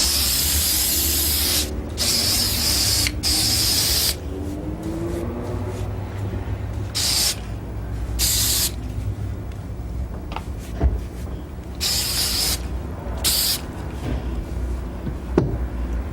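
Aqua Net hairspray can sprayed in several short hissing bursts, some quick and some longer, close up, separated by quieter mechanical handling sounds.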